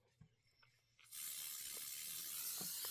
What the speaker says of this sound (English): I'm going to spray the background fabric